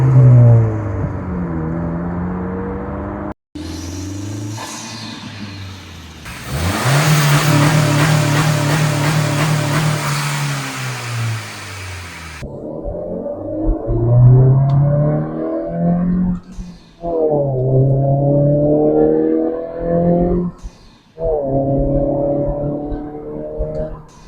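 A 2026 Honda Civic Si fitted with a PRL high-volume air intake revs loudly in several bursts, the engine note climbing and falling with sustained high-rpm stretches between short pauses, close and alone.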